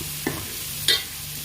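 Chicken curry masala frying in oil until the oil separates, for a Tamil country-chicken kuzhambu: a low continuous sizzle with two short, sharp stirring scrapes of a spoon against the pan.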